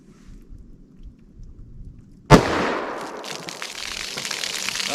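A single sharp, loud .44 Magnum gunshot fired into wood and water jugs, a sudden blast followed by a lingering outdoor rumble and scattered debris sounds.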